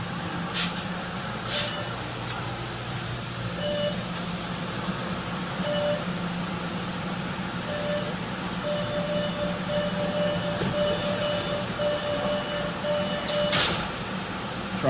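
Interior of a Boston Red Line subway car in motion, a steady low rumble and rail drone throughout with a faint repeating tone, plus a couple of brief sharp clanks or door sounds near the start and end.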